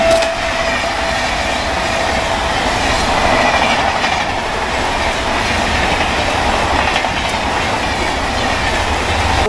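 A local train at Dankuni station rumbles loudly and continuously, with a dense roar of wheels and carriages and a steady rattle close by, no voices.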